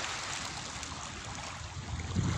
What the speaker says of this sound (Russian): Так ласково бьет о берег волна